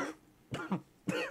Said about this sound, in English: Macintosh seemed to be having a coughing fit